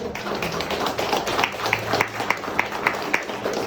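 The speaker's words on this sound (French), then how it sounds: "une bonne main d'applaudissements pour Luc" Audience applause for Luc Paquin at an evening event, a modest scattering of claps with a few sharper, distinct hand strikes standing out, fairly faint and without talk.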